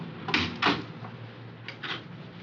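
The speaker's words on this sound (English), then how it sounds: "And close that door." An indoor door swings shut with two quick, soft thuds close by, then fainter bumps over a steady room hum.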